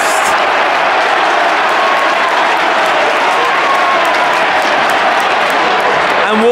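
Wolves football supporters roar in a stadium, a dense, continuous wall of cheering and clapping from a large crowd that stays loud throughout.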